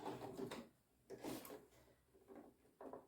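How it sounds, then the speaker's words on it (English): A sewing machine taking a few stitches through a fabric bookmark, short bursts of mechanical whirring and clatter separated by brief pauses, close and fairly quiet with no talking. "I'll just take another stitch here"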